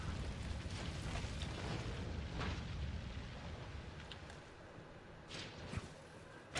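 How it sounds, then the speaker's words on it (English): A thermite grenade burns in a video game as a sustained low roaring rumble that holds steady, then thins out, ending with a sharp burst at the very close. "Throwing thermite grenade."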